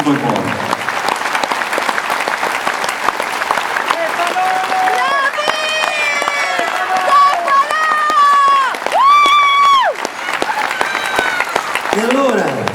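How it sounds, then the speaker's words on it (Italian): Concert audience applauding and cheering during a live music tour show, dense sustained clapping with shouts and whoops rising over it, loud and close, with sung or called-out voices poking through the crowd noise. "sarà contento di questo applauso"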